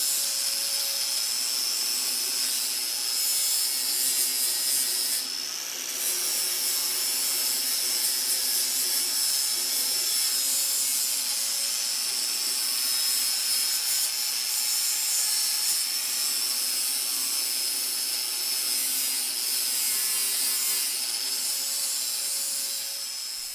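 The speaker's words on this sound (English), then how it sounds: "I wasn't sure how this Harbor Freight flap disc was going to do against the stainless steel, but it did the job and removed enough material for me." A Harbor Freight flap disc grinds a stainless steel exhaust flange on an S13, giving a steady, loud, bright abrasive whine that runs continuously with only a brief dip, with no talking.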